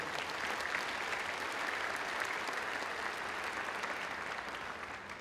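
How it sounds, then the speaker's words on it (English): Sustained applause from a big crowd filling an indoor arena at a high school graduation, a thick even wash of clapping that tapers slightly toward the end. "let's give them a round of applause too"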